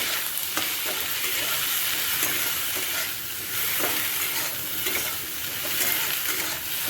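Turmeric, salt and cumin fry with okra in a hot pan, making a loud, continuous close sizzle with brief crackles and stirring sounds throughout.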